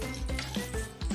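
Dried red chillies, whole cumin seeds and a bay leaf crackle and sizzle as they drop into hot oil in a Bengali home kitchen, a steady close frying hiss with soft bursts and no talking.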